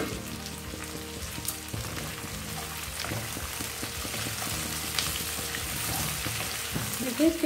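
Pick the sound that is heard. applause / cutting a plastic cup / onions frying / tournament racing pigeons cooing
onions frying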